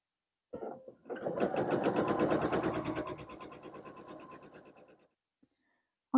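A sewing machine runs in one steady burst of about four seconds as it stitches barn star quilt block pieces together, its rapid mechanical chatter close and clear before stopping.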